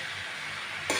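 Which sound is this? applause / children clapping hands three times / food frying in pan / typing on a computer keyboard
food frying in pan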